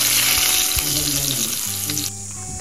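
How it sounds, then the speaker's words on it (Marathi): A hot mustard-seed and cumin tempering is poured onto cashew apple bharit, giving a loud, dense crackling sizzle up close that holds for about two seconds and then cuts off abruptly, leaving a quiet tail. "फोडणी व्यवस्थित तडतडली की ती फोडणी आपण भरितावर घालून घेणार आहोत।"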